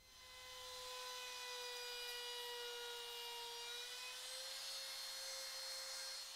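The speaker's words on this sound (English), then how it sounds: "That's how you round over an edge with the handheld router." A handheld router rounds over the edge of a wooden workpiece, giving off a steady, loud, high-pitched motor whine that holds nearly unchanged, with a faint rise in pitch, and no voices.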